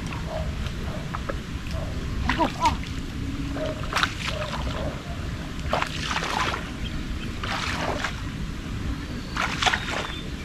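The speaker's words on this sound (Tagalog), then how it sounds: "Alon dito." River water washing and sloshing continuously, with repeated splashes breaking over a steady rushing noise, fairly close and loud.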